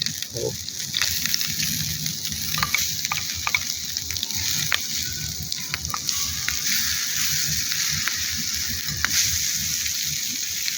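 Bacon and tomato frying on a small camping gas stove outdoors, giving a steady soft sizzle and hiss throughout with a few faint clicks and scrapes, moderately close and unbroken by speech.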